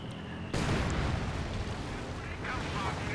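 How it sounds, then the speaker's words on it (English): Artillery fire landing on mortars in Company of Heroes 2, a loud sudden blast swelling into a sustained roaring rumble of explosions and debris. "Ah, a lot of artillery fire on the mortars here."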